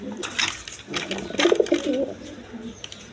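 Pet pigeons, including yellow and red Gorra birds kept in pairs with chicks, give low throaty coos close by, a short rolling burst in the middle while people talk intermittently over them.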